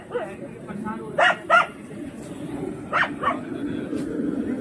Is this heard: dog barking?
yes